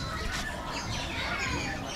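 Small caged birds, Java sparrows and diamond doves, chirp and twitter in an aviary, their quick high calls overlapping against a noisy background.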